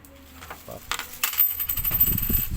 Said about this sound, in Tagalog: Tagilid lang natin para diretso yung barya.